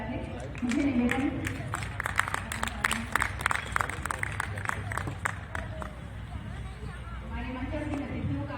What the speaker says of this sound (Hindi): जिनके हाथ में चाय नहीं है वो लोग तालियां बजा दे।